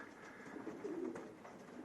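Racing pigeons coo inside a pigeon loft, a low, murmuring burble that rises near the middle, moderately close against a steady background hum, with no talking.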